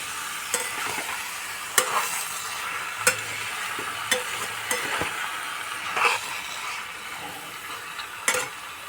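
Bombay duck fish with onion stalks fries without water over a raised gas flame, an even close sizzle broken by a series of sharp spatula scrapes and taps against the pan at irregular intervals.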